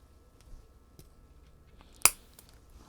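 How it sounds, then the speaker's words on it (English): Blue scissors snip once through a curved maple tree root, a single sharp close click standing out against a quiet background with a few faint taps. "I'm going to get my blue scissors and we're going to cut it right here"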